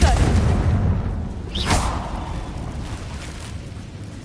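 Confringo fire blast spell cast in Hogwarts Legacy: a deep booming explosion with a rushing whoosh, a second burst flaring midway, then rumbling decay.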